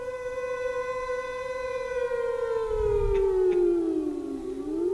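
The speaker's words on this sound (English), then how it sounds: "If an attack is imminent, sirens will sound with a rising and falling note like this" A civil defence air attack warning siren wails steadily with a rising and falling pitch, loud and sustained, with a low rumble partway through.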